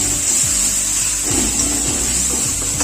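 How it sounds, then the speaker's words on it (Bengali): Spices for chicken bharta fry in a pan with a steady hiss while a spoon scrapes and stirs in repeated strokes, close and loud throughout. "ভালো করে নেড়ে চেড়ে কষিয়ে নিতে হবে, যাতে নিচে লেগে না যায়।"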